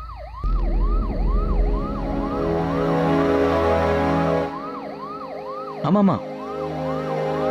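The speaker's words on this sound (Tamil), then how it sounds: "மேடம் இங்கே பாருங்க, ஆம்புலன்ஸ் அனுப்பிடட்டுமா?" An ambulance siren wails in a steady, repeating rise-and-fall cycle, loud and close, over a low rumble, with a brief spoken word partway through.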